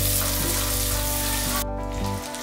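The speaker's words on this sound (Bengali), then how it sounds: "বাদাম আর কিশমিশটা একটু ঘিয়ের সাথে ভেজে নিন।" Cashews and raisins fry in hot ghee with a dense, steady sizzle that stays loud and close, then drops off near the end.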